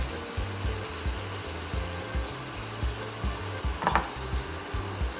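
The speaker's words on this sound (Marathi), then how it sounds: "हे पेस्ट घालून आपण हे परतून घेणार आहे" A paste of tomato, coconut, ginger and garlic fries with onions for black chana curry, producing a dense steady sizzle under rhythmic low stirring thumps and one brief sharp scrape, close and continuous.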